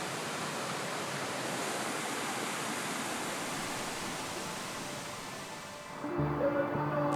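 Steady, loud roar of rushing water from a waterfall near the Drakensberg mountains in eastern South Africa, a dense continuous wash that fades out toward the end as a low hum and faint tones take over.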